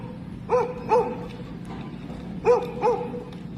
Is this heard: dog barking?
yes